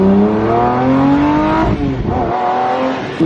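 Lamborghini Murcielago, a repaired formerly totaled car, revving hard as it accelerates on a test drive, its engine pitch climbing in loud sweeps, dipping briefly, then surging again, close and continuous.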